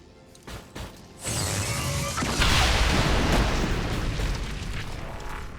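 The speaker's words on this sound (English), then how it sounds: "the purifier goes up in a violent explosion" A purifier explodes violently in the video game XCOM 2, a loud roaring blast that bursts in and rumbles on for several seconds, with no talking.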